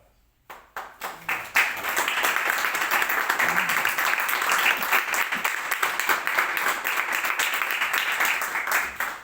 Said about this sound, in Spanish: Muchas gracias por el aplauso.